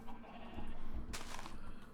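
Sheep bleating in Minecraft, a short game-sound bleat rising midway over a faint background, fairly quiet.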